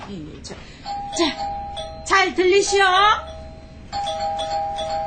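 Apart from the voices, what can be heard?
doorbell ringing, radio drama sound effect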